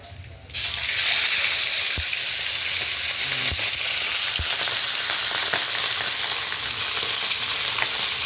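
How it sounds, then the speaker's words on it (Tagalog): Flat fish (isdang lapad) sizzles in hot oil in a pan, a steady loud broadband frying hiss that starts abruptly after a brief quiet moment, with a few sharp pops and clinks scattered throughout. "Yan ang ating isda. Yan. Piniprito."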